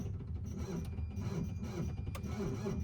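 A 1981 Cadillac Eldorado engine cranks over without fuel, a steady, faint mechanical churning that goes on without catching, with no one talking.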